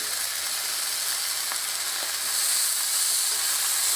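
Scrapple sizzles steadily in a hot frying pan on a stovetop set to medium heat. A close, even hiss continues throughout, with a faint click partway through.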